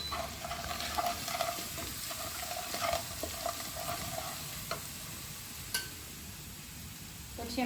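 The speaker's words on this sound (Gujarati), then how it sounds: "મસ્ત આદુ મરચાંની પેસ્ટ સરસ સાતડી લેવાની." Ginger-chili paste sautéing in a pan of hot oil with asafoetida in a home kitchen gives a steady close sizzle, broken by light spoon scrapes and taps as it is stirred, with faint talk in the background.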